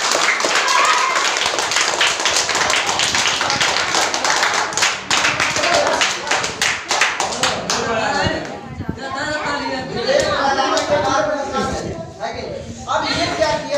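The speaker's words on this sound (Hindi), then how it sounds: "एक बार जोरदार ताली बजाइए।" A crowd at a business plan seminar breaks into loud, dense clapping that runs for several seconds, then thins into scattered claps as voices rise over it.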